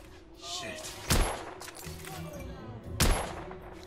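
Gunfire in The Order 1886 video game: two sharp, loud shots about two seconds apart cut through a rumbling background of combat, with a voice talking over the action.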